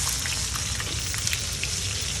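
Protein browns in a hot pan, giving a continuous close hiss of fine crackling spatter at an even level, with no voices over it.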